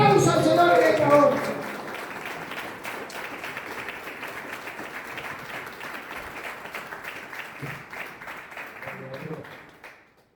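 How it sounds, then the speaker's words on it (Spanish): A church congregation applauds in praise, a dense wash of clapping that swells loudly at first, then settles into steady applause mixed with voices and cheers before fading out. "dale un aplauso al Señor de favor"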